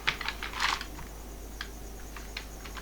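Fast typing on a computer keyboard while entering PHP code, a quick burst of keystrokes up front then sparse single taps, close and fairly soft over a steady low hum.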